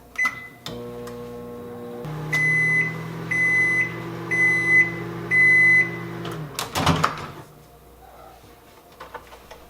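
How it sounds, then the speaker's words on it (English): A microwave oven hums steadily after a door clunk and button beeps, its drone rising and falling, then stops with a clatter of the door opening. "put it in our microwave"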